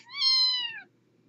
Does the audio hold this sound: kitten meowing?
yes